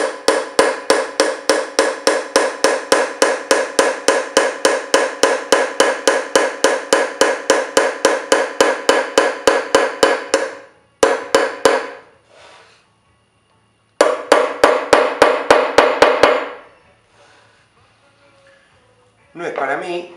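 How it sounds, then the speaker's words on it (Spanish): A ball-peen hammer strikes a chasing chisel in rapid, regular metallic taps, loud and close, breaking into short bursts with pauses later on. "lo mismo lo voy a hacer con un martillo bolita"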